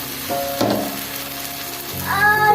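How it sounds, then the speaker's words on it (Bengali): Grated spinach poured into a hot pan for palak paneer sets off a sudden wet sizzle that settles to a steady frying hiss, then swells louder near the end as it is stirred. "পালং শাক যেটা গ্রেট করে দিয়েছিল সেইটা এখন ঢেলে দিচ্ছে"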